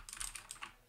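Keys clack on a Keychron K4 mechanical keyboard in a short, quick burst of about half a dozen light, close taps with no voices.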